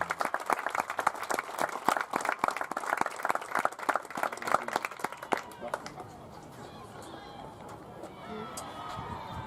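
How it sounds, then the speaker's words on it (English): A crowd at an NCAA Division III softball regional applauds the Rowan University softball team in a dense burst of clapping that thins and fades after several seconds into scattered claps and murmuring chatter. "Let's give them an outstanding round of applause"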